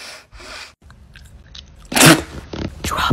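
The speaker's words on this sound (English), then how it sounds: "Don't chew so loud." Loud, crunchy chewing sits close to the mic in irregular bursts, with sharper bites growing stronger toward the end.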